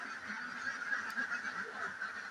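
A flock of farm ducks kept in their house on a rainy morning, not yet let out, makes a steady, dense chorus of calls that holds at an even, moderate level throughout.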